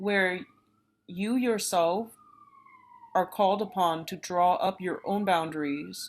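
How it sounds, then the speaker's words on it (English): An emergency vehicle siren outside sounds as a long wailing tone across the middle of the clip, faint beneath someone talking steadily before and after it. "excuse the siren"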